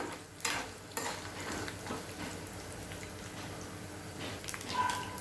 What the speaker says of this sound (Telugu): ఇవన్నీ కూడా చక్కగా ఎర్రగా వేగేంతవరకు సిమ్లోనే పెట్టి వేయించుకోండి